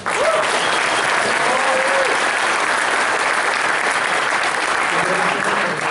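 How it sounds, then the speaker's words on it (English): Conference audience applauding panelists at a collecting panel in Anaheim, a dense, sustained wash of clapping from a large crowd filling the room, with a few faint voices underneath. "So please give a round of applause for our panelists."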